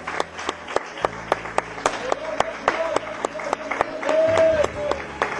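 A church congregation claps in scattered, sharp beats while people talk, with a sustained voice or tone swelling near the end.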